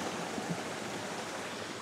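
A shallow, clear river in Magallanes, Cavite flows steadily, a dense, even rush of water close by with no voices over it.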